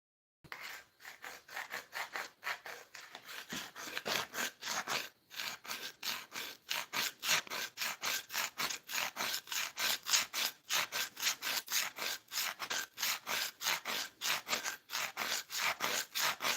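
Cherry wood cut on a lathe with a gouge while turning a large wand, giving steady rhythmic scraping and rubbing strokes that repeat quickly, close and loud, with no talk.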